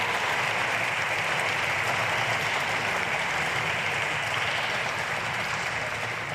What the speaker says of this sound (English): can we also give a very big round of applause to our incredible jazz band